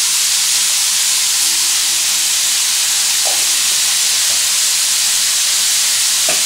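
Paneer fries in a pan with a loud, constant sizzling hiss, broken by a few soft scrapes and taps as it is stirred.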